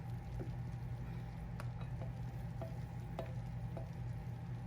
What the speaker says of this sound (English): See it bubbles a little bit? And we're gonna let that simmer for 3 minutes now.